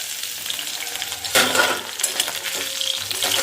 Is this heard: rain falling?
no